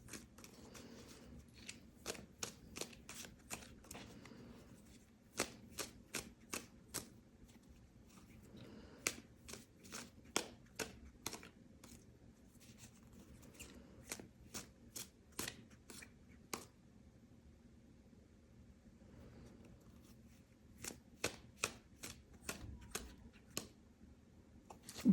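Tarot cards are shuffled by hand in several bursts of quick, crisp riffling clicks separated by quiet pauses, close and fairly soft.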